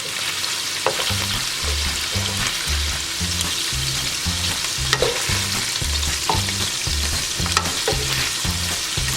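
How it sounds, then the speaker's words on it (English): Beef searing in a hot pan gives a loud, continuous sizzle that stays steady throughout, with a few sharp crackles and a rhythmic low thumping underneath. "It's been about 5 minutes and the beef is nicely seared, so I'm going to remove it."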